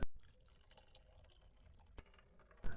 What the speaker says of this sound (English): Then I pour it back into the cheesecloth and sieve it very well until the water drains